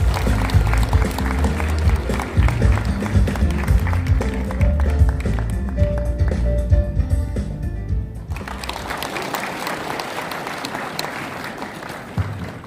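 Loud crowd applause and cheering at a political party rally in Busan, filling the hall continuously for about eight seconds before tapering into lighter, scattered clapping and crowd noise.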